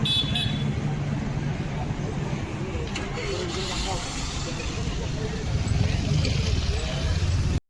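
A Tata Magic vehicle is driven out on a street in Jalgaon, its engine and road noise forming a steady loud rumble throughout, with a car horn toot and voices talking over it.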